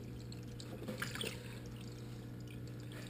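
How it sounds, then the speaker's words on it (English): Water poured over a gold sluice mat from a 6 inch sluice during cleanup, a steady splashing wash under a constant low hum, close and moderately loud throughout. "I'm going to induce a little bit of water and finish washing this down."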